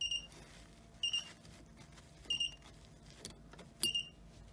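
A water sensor alarm beeps in short, bright bursts, four spaced chirps over a faint background hum, fairly quiet and close.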